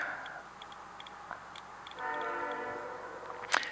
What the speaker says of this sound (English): And hello, train.